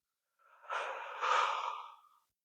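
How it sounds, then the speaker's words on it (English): A single deep, slow breath, close and soft, with a steady airy inhale that swells into a longer exhale, heard alone in quiet surroundings. "So let's take a deep breath in."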